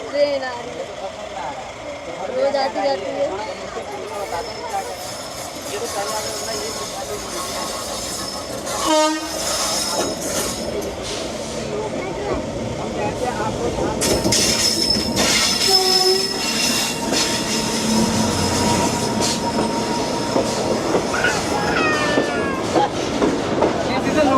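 A train rumbles past close by in a neighbourhood in India, with clattering wheels, squealing metal and a horn, while people talk in the background.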